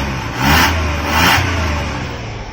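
Close, loud revving from a Maruti 800 with an oil-funnel modified silencer, two quick throttle blips swelling and falling back over an idling engine.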